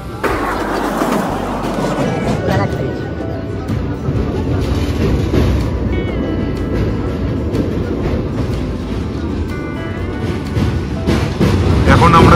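A train on the Santragachi–Digha winter special crosses the Kolaghat bridge over the Rupnarayan river, giving a loud, steady rumble and rattle that holds for the whole stretch and swells near the end.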